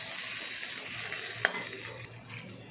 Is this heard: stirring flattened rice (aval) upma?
yes